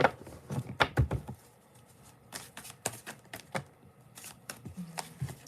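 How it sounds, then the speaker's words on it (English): Playing cards being shuffled in quick riffling bursts with short pauses between, close and fairly quiet. "shuffle one last time with all the cards"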